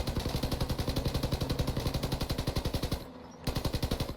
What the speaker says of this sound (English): the reason I chose for the Piercers is because they're relatively compact and fire really fast